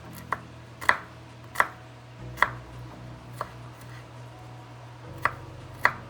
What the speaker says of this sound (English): Doesn't matter how you cut them, just make sure it's dices in small pieces